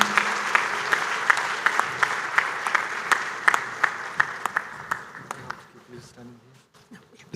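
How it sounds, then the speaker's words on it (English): A standing audience at the East African Congress of Accountants in Kigali gives a guest of honor heavy applause on his way to the podium; sustained crowd clapping with sharp rhythmic claps on top, gradually fading out toward the end. "give the guest of honor heavy claps as he goes to the podium"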